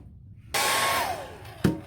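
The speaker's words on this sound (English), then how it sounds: "a quick hair dryer on this" A hair dryer switches on abruptly and roars steadily up close, drying a wooden garden flag, its whine dipping slightly, with a brief clunk near the end.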